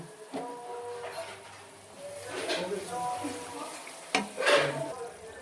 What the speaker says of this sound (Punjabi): ਤੜਕਾ ਆਪਣਾ ਪੱਕ ਚੁੱਕਿਆ ਤੇਲ ਸੜ ਚੁੱਕਿਆ